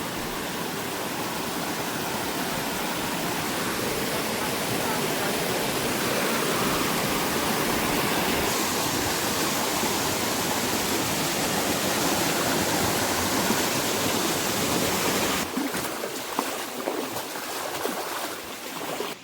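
A village stream or channel of clear water runs in a continuous, loud, close rushing wash that stays steady throughout, with no voices.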